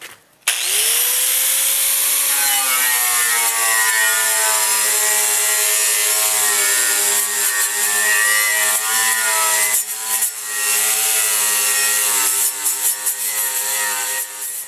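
A 4.5-inch angle grinder fitted with a stripping disc scours paint off racing mower frame pieces, giving a loud, steady, high-pitched whine with harsh abrasive grinding that runs continuously at close range, dipping slightly near the end.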